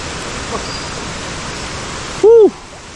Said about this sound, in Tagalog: ang laki na po ng tubig